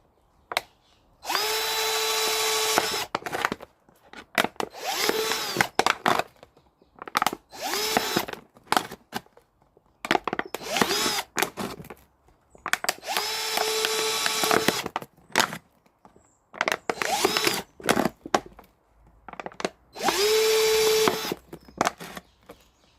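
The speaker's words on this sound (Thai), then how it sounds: "ก็ใช้สว่านเจาะรูสี่ห้ารูค่ะ" An electric drill whirs in several short bursts, each a few seconds long, separated by brief pauses, close and fairly loud, boring holes in a plastic bottle.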